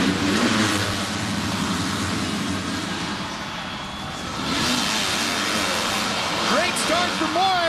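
A pack of motocross bikes launches at the start of a Lites heat race in a supercross stadium, a loud dense roar of engines revving together under a commentator's voice.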